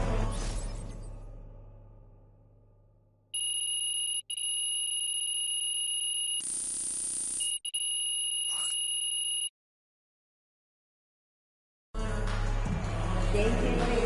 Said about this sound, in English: Final buzzer sounds